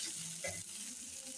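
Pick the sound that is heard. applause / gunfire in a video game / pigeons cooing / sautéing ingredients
sautéing ingredients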